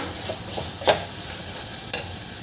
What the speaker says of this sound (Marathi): गॅस मोठा करून छान तांदूळ परतून घ्यायचा आहे थोडा वेळ, 2-3 मिनटं